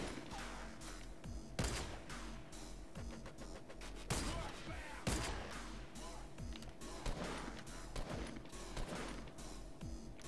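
Rapid bursts of gunfire in the video game Fortnite, several volleys of sharp cracks and impacts close by, with people talking over the shooting.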